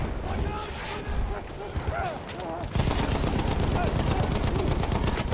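Automatic machine gun fire in the video game Battlefield 1, sustained rapid bursts that turn louder and denser partway through, with game ambience and effects around them.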